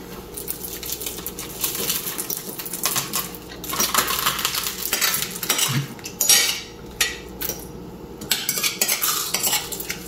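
Tomatoes and onions cook in a pan, with a spoon clattering and scraping against the metal in quick irregular bursts over a soft sizzle, close by and with no talking.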